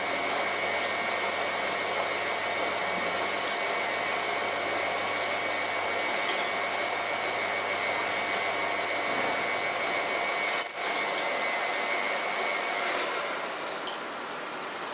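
An electric mixer creams cake batter at steady speed, a continuous even whir with a faint hum underneath that runs without a break and stays close and moderately loud throughout.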